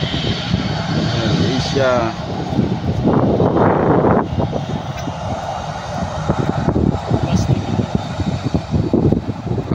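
Airplane engine roaring with a strong blast of thrust at takeoff, loud and continuous throughout with wind buffeting, while people talk over it.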